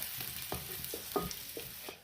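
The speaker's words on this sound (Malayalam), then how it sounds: "ഇനി 2 തണ്ട് കറിവേപ്പില കൂടെ അങ്ങോട്ട് ഊരിയിട്ട് കൊടുക്കുക." Curry leaves and dried red chillies frying in hot oil for a Kerala prawn curry, a soft close sizzle with quick little pops and crackles over two seconds, no voices.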